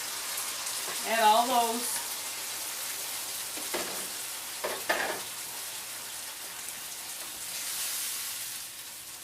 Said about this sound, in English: I have some diced tomatoes here. I'm going to add these with the juice.